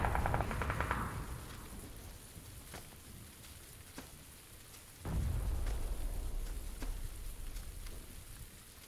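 Steady rain hisses down in the battle-royale game PUBG on the Sanhok map, with scattered sharp gunshot cracks and a louder surge of rain noise partway through; no one speaks.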